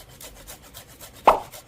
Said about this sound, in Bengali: এখন লেবুটা আর একটু ঘষে দিয়ে দিচ্ছি।